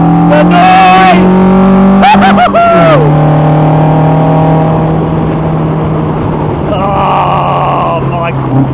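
A Westfield Se NA R-T sports car's engine revs loudly and close, with sharp rising and falling sweeps, then settles into a sustained drone, with a voice talking over it.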